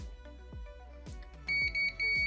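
A multimeter beeps on continuity while probing the door switch terminals of a microwave that won't start, short tones repeating alone over a low background with faint clicks of the probes.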